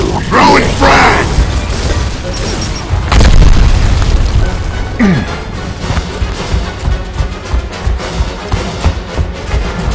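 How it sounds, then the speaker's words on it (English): A frag grenade goes off in the Gears of War video game with one loud, heavy boom in the middle, surrounded by clattering mechanical gunfire and combat noise. "Throwing frag!"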